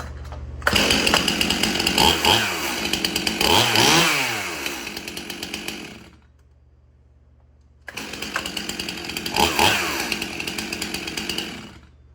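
A Stihl MS-291 chainsaw runs loud and close in two bursts, its engine revving up and down, separated by a short quiet stretch.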